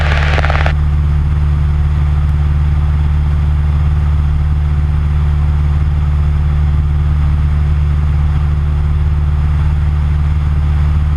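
A light Cessna aircraft taxis at an airfield with a loud, steady, droning piston engine and propeller hum heard close up from inside the cabin, unchanging throughout, after a brief burst of noise at the start.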